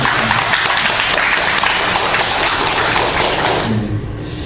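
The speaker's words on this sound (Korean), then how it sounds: "우리 모두를 해서 우리 축복의 박수를 한번 같이 보내주십시오" A large church congregation applauds steadily during a Wednesday worship service, a dense wash of clapping that holds for several seconds before thinning out near the end.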